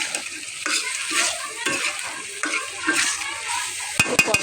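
Potatoes with turmeric and spices sauté in a pan for a hilsa and pointed gourd curry, a steady close sizzle broken by repeated stirring scrapes and a few sharp clinks of the utensil near the end.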